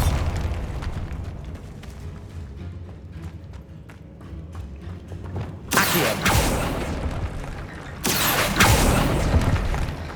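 Two loud booming blasts from the Bombarda spell in Hogwarts Legacy burst out a few seconds apart over low rumbling game ambience, each one sudden and broad before fading into a lingering roar.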